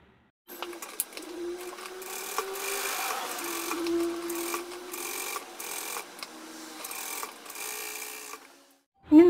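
A sewing machine runs steadily, stitching lining material onto a churidar top in a continuous whirring hum with slight rhythmic pulsing, close and fairly loud, stopping abruptly near the end.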